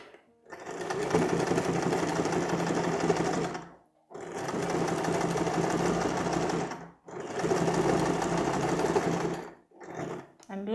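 Sewing machine running a lock stitch along a seam with bias binding at a medium stitch width, three long steady bursts of rapid whirring separated by brief pauses, close and clear.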